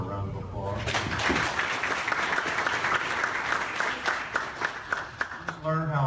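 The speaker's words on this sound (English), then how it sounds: "Please give her a round of applause." Audience applause at a presentation, a full burst of many people clapping that swells and then tapers, with a voice briefly audible at the start and end.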